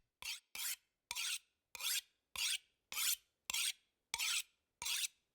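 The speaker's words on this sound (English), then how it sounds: "Sharpening ASMR." A tool being sharpened in the video game The Long Dark: nine evenly spaced rasping strokes, each about a third of a second long, crisp and close against silence.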